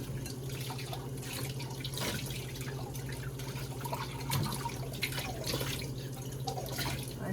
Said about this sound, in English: Since I'm washing my hands, I may as well clean the cup that's here.